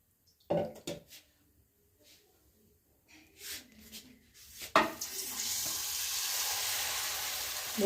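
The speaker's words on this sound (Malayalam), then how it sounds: "ഇനി ഓരോന്നും എടുത്ത് നമ്മൾ മാവിൽ മുക്കി പൊരിച്ച് കോരിയെടുക്കാം" Batter-dipped bajji fritters are dropped into hot oil: scattered clinks and handling noises give way to a loud, steady sizzling roar of frying.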